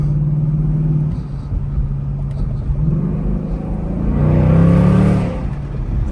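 A Ford Mustang S650 with an H-pipe exhaust idles with a deep, loud rumble close by, then revs up in a swelling roar around the middle and falls back toward the end.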